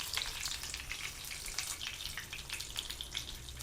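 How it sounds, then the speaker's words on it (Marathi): Semolina-coated eggplant slices shallow fry in oil, giving a busy, crackling sizzle with many quick pops that stays steady and close throughout, and no one talks. "नंतर हे शॅलो फ्राय करणार आहोत आपण।"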